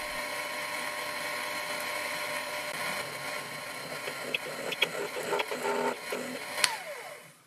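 Twist drill boring holes in a workpiece on a Proxxon PD 250 e lathe while making a custom die, a steady whirring motor hum with scattered sharper cutting clicks and squeals toward the end, no talk.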